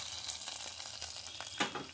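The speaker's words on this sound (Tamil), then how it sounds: "இப்போ தாளித்து ஊற்றிடலாம்." Hot tempering poured into brinjal chutney in Sourashtra style, giving a steady close sizzle and crackle with a sharper burst near the end.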